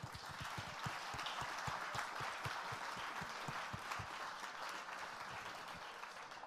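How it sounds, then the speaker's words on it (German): Audience applause at a crowdfunding and crowdsourcing conference poster session, steady clapping from a hall full of people carrying on evenly throughout, with no talk over it. "geben wir allen 10 vielleicht noch mal einen kurzen Applaus"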